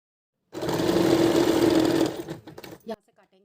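A sewing machine stitches the collar of a kurti with a short stitch length, a close, steady whirring run of about a second and a half that slows and stops, followed by a few brief clicks.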